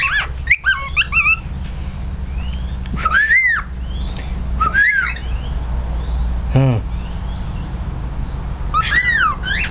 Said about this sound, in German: Du bist ein Pfeifvogel